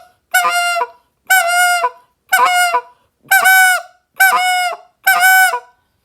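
Six loud honks from a goose call, evenly spaced, each note held steady for about half a second, with silence between them.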